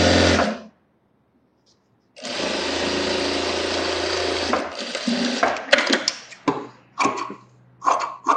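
Sewing machine stitching a sleeveless blouse, a loud close whirring run after a short pause, then stopping and starting in quick uneven bursts, with no talk.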